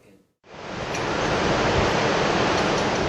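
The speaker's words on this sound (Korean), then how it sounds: "숙소 앞을 지나는 계곡 물소리가 상쾌한 아침." After a brief quiet moment, a mountain stream in Nepal rushes past a lodging on a fresh morning, a steady, loud, hissing wash of flowing water that continues unbroken with no voices.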